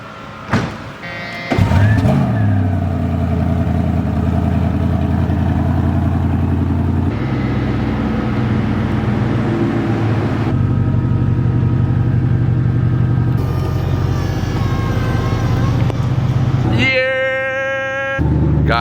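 A Koenigsegg Regera heard from the cabin on its first drive, a steady loud engine drone that shifts pitch as it moves, with a whirring whine rising near the end.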